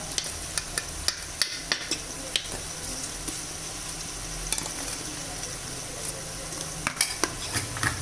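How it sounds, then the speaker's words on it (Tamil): Ginger garlic paste fries in a pan for chicken biryani, a steady loud sizzle running throughout with frequent sharp spatula taps and scrapes against the pan. "இஞ்சி பூண்டு பேஸ்ட் கொஞ்சம் போட்டுக்கலாம்."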